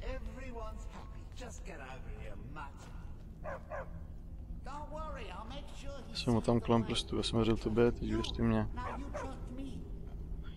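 A dog barks and yips in the Skyrim video game, short repeated bursts that come in clusters, under a man's ongoing speech and a steady game background.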